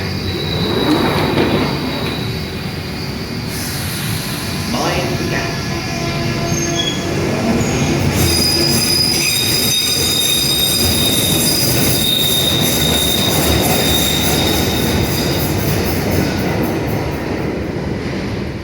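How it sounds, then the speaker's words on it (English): London Underground Central line train running, a loud steady rumble with wheels squealing high and long, rail clatter and brief tones rising over the din, close and continuous throughout. "The joys of the Central line and its crowded trains."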